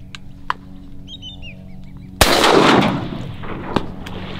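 A shotgun fired during a sunny marsh duck hunt: a single sharp blast with a long rolling echo that tails off, plus a faint distant pop before it and another after.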